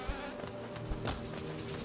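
Bees from the video game Hollow Knight give off a steady, droning insect buzz throughout, moderately loud and without any speech.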